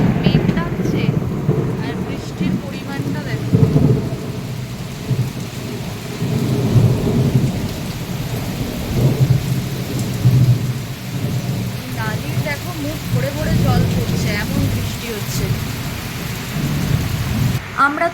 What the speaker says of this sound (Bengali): বাইরে প্রচণ্ড পরিমাণ বৃষ্টি হচ্ছে